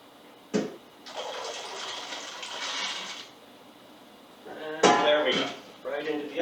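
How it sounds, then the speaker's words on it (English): Water draining out of a pot of blueberries into a sink, a steady splashing pour lasting a couple of seconds, followed by clattering and more bursts of running water close by. "let the water drain out"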